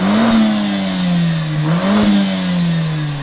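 An Audi RS3 four-cylinder engine revving, heard from outside the car: a loud, close, droning hum that rises, dips briefly and climbs again before easing off, with no talking.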